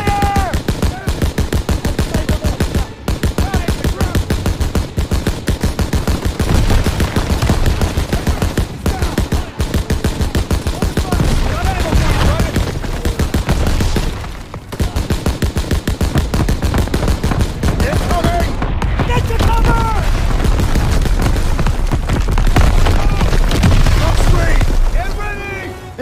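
Call of Duty WWII battle: dense, continuous machine-gun and rifle fire with heavy booms, loud and relentless throughout, with shouting voices buried in the din.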